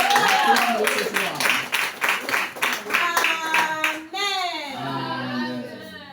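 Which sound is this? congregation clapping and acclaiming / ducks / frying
congregation clapping and acclaiming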